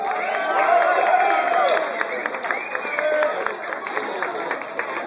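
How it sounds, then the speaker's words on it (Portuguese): A live concert crowd applauds and cheers a performer, a dense wash of clapping with whoops and shouts that holds steady for several seconds. "pessoal, palmas pra ele."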